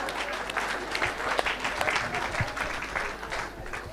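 An audience at a French-language evangelical church service applauds and cheers for Jesus: continuous, dense clapping from a large crowd, with scattered shouts mixed in.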